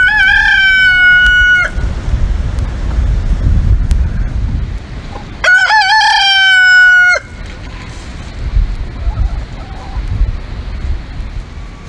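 Backyard chickens near a coop: a rooster gives two loud, drawn-out crows a few seconds apart, with softer clucking and gusty wind noise filling the gaps between.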